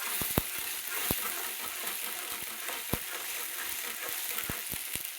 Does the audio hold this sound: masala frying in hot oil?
yes